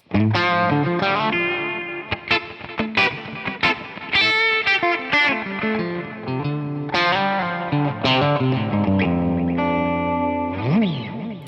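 Distorted electric guitar on the bridge pickup, volume rolled off to about 2.5, through a DI capture of a Two-Rock TS-1 100-watt amp, plays a lead line with sustained, gritty notes and bends, ending in a wavering held tone; loud and up front.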